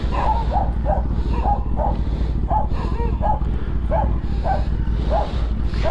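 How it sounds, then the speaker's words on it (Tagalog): Several big caged dogs bark in a steady run of short, evenly spaced woofs, fairly near, over a constant low engine-like rumble from an idling motorcycle. "Ang nandito aso malalaki, buti nakakulong"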